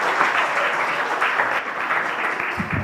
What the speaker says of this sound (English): Let's clap for all of us.